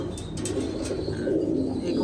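Pigeons of a racing breed cooing close by in a low, soft repeated murmur, with a few bright chirps and some background chatter.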